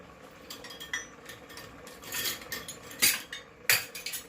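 A measuring cup handled in a home kitchen while preparing jasmine rice, with scattered light clinks and knocks against utensils and dishes, close and fairly quiet, with no talking.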